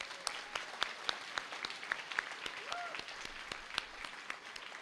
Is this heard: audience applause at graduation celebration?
yes